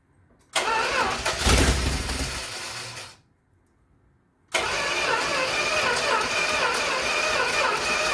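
A 1974 Dodge D100 pickup with a 225 Slant Six engine cranks and catches for a couple of seconds, cuts out to near silence, then cranks again and starts, running steadily and loudly up close.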